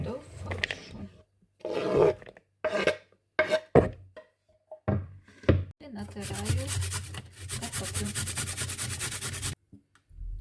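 Potato grated by hand on a grater for juicy cutlets: short scraping bursts, then a long continuous rasping stretch, with brief voices in the gaps.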